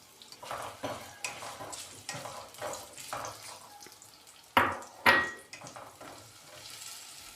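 Potatoes frying in a little oil in a frying pan, a soft sizzle under a series of spatula scrapes and stirs, with two sharp louder clatters of the pan midway and no voices.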